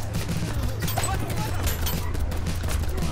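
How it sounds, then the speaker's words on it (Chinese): Rapid automatic Uzi fire from a car in a GTA-style survival video game, a steady rattling burst of shots lasting a few seconds at moderate level. "我在车里面也可以开车开枪"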